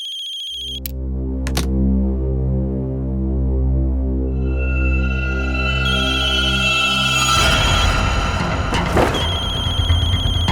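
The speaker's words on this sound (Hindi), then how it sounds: "इतनी रात को फोन करते रहते हैं।" A mobile phone ringtone sounds at night, with a steady buzzing electronic drone joined by higher ringing tones that swell louder and busier toward the end.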